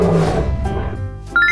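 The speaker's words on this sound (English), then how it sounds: "Lion." A lion gives a short, rough roar, a deep grumbling burst that trails off within about a second before a brief higher sound.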